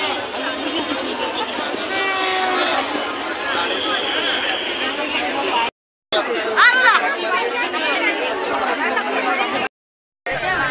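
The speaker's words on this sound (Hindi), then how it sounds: "यहाँ पर ज़बरदस्त भीड़ लगा हुआ है।" Dense chatter from a large crowd along the Brahmaputra riverside in Guwahati, Assam, on a foggy Mahalaya morning, a steady hubbub of many voices close by with brief breaks.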